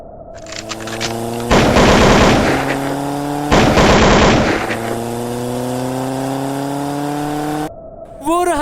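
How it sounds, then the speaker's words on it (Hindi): Cartoon hunter firing guns in rapid bursts in a jungle scene, two loud volleys of automatic gunfire over a steady droning background tone, with a brief bubbly effect at the end. "ताबड़तोड़ बंदूकें पे बंदूकें बरसा रहा है वो उस पर"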